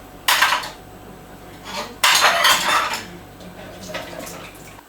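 Dishes and cutlery clatter as they are washed in a village home kitchen, with two bursts of clinking and scraping plus lighter knocks between them, heard from a short distance alongside running water.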